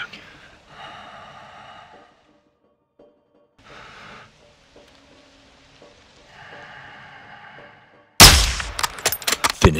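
Gunfire in the video game Modern Warfare 2 breaks out as a loud, close burst of rapid shots near the end, after a long quiet stretch of low voices and breathing.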